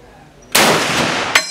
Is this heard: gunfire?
yes